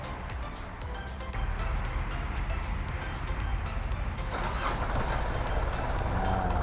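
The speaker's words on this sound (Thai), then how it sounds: "รถสตาร์ทติดง่ายนะครับคันนี้" Yanmar EF 725T tractor, a used 72-horsepower machine, its engine catching and settling into a steady loud diesel rumble with a rising whine toward the end.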